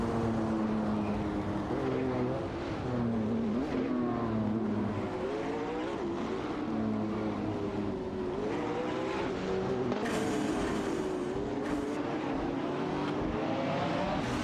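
Racing car engines in an AI-driven video game race, including a Lamborghini Huracan Performante, rev and wail continuously with shifting pitch, dense and loud throughout, with occasional bursts of tire squeal and no talking.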